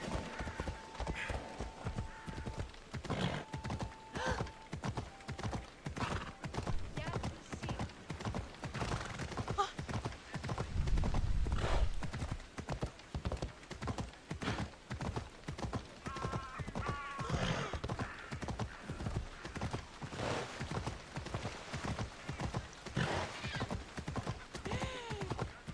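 Hoofbeats of a horse galloping in the video game Assassin's Creed Odyssey, a steady rapid clip-clop running throughout, with a brief whinny and a low thump midway over faint background game sounds.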